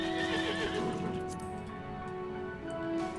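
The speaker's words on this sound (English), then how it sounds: "It is a 6-legged horse with wings." A six-legged winged horse mount in Final Fantasy XIV whinnies in a clear, mid-level neigh, followed by faint tick-like game sounds and background tones.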